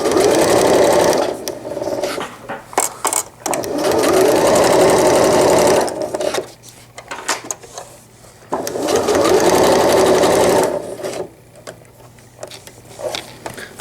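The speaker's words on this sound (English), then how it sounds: "I am going to just sew these together so that they don't shift while I'm adding the fold over elastic." A sewing machine runs a straight stitch along the edge of a diaper cover, loud and close, in two long steady whirring runs separated by a quieter gap of handling and short stops.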